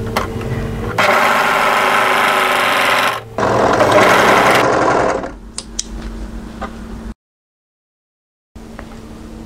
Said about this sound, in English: And then twist and do the other side seam overlocking.